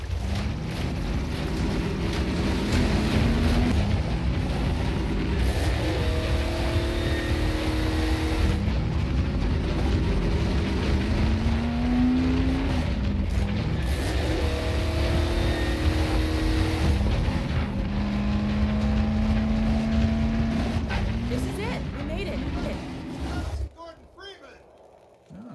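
A car engine in Half-Life 2: Episode 2 revs and accelerates through repeated rising gear climbs, loud and steady with rushing wind, while a voice talks over it throughout before the engine cuts off abruptly near the end.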